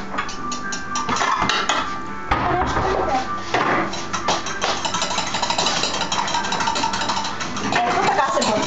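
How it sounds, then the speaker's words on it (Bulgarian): An egg being beaten with a small fork in a bowl, a busy rapid clinking and scraping of metal against the dish that runs nearly continuously, with people talking over it. "Сега ще го разбия с тази малка вилица."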